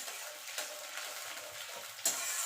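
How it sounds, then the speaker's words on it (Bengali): A moong dal tempering sizzles steadily in a pan as it is sautéed. The frying hiss is soft and continuous, with a few light stirring scrapes and a brief sharper crackle near the end. "এবার এটাকে একটুখানি কষিয়ে নেব।"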